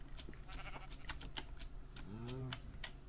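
Sheep bleating in the Minecraft video game, one short wavering bleat standing out over a busy background of clicks and soft noise.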